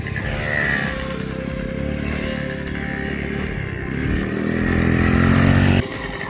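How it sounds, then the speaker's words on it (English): An older 2-stroke dirt bike and a newer 4-stroke dirt bike race around a track, their engines droning and revving steadily, with the growl swelling louder toward the end. "This is an older 2-stroke bike. That's a newer 4-stroke bike."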